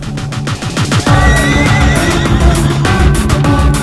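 A horse neighs loudly and close, a long shrill whinny rising over clip-clop and movement sounds, standing out clearly with no talk.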